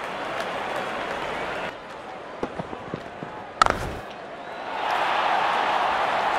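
Crowd noise from a mobile cricket video game, Real Cricket Swipe, greets a six: a low murmur, a few sharp knocks and a crisp bat-like crack, then a broad cheering roar that rises and holds to the end.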